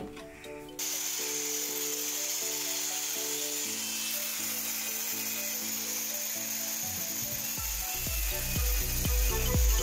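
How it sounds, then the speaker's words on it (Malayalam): Power tool cuts into the side of a DIY diving helmet, a loud steady whine with rhythmic chattering pulses that grow rougher and more uneven near the end, heard alone without talk. "സോ അപ്പൊ നമുക്ക് ഈ സൈഡും കൂടി ചെറുതായിട്ട് കട്ട് ചെയ്ത് നോക്കാം."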